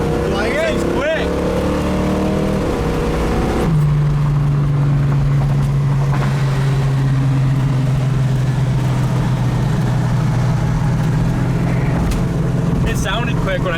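A 1973 Dodge Challenger engine revs while driving, settling into a loud, steady low drone heard from inside or close to the car.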